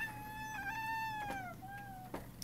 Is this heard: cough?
no